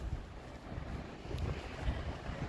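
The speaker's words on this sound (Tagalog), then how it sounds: "Ang lakas ng hangin, super lamig." Strong wind buffeting the microphone in a low, continuous rumbling roar that swells and gusts, with no voices.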